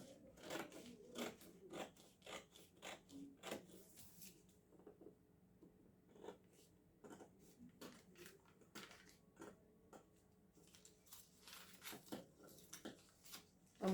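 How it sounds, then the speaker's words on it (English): Scissors cutting through paper drafted for a shirt collar, a quiet run of crisp snips and blade clicks in uneven bursts with short pauses, close to the listener. "So I'm cutting through."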